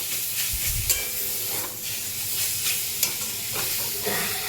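Fish fries in only the oil it releases, with no added oil: a close, steady sizzle and hiss, broken by occasional scraping taps of stirring, without any talking.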